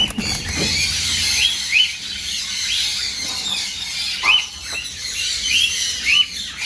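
Small farm birds newly placed in cages chirp and squeak in short, sharp high calls scattered irregularly over a low background hiss, fairly close, with no talking.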